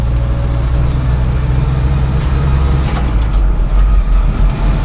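A 1956 Willys CJ5 with a new engine driving along, a loud continuous low engine rumble and road noise close by, with no clear break for a gear change.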